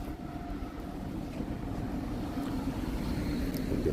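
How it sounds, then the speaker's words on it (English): A train passes at a distance as a steady, low rumbling drone that holds throughout, with no voices. "Now I see a train passing."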